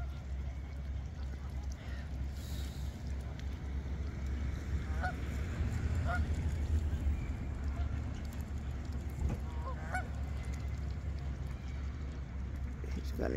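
Geese honk in scattered bursts over a steady low rumble of outdoor background noise at Lake Tomahawk, among a flock of ducks, some calls closer and louder than others.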